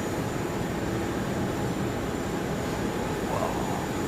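A heavy Cathay Pacific jet airliner landing on runway 7 right at Ted Stevens International Airport in Anchorage, heard as a steady, broad roar of engines and rushing air that holds at an even level throughout, with no voices.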